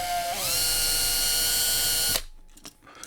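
A small drill bores out the rivets on a Hot Wheels Ford GT die-cast car, a steady high whine that dips as the bit bites, grinds for about two seconds, then stops, leaving faint clicks and handling noises.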